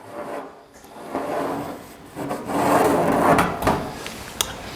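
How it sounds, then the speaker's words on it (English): A saw cuts out a plywood shape for a fender skirt on a 1939 Hudson rat truck build. Uneven rasping strokes rise and fall in loudness at close range, with a few sharp clicks and no talking. "carefully trace the shape on my piece of plywood, and then we can go and cut it out"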